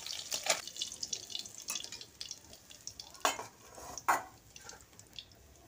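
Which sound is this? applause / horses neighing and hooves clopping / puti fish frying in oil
puti fish frying in oil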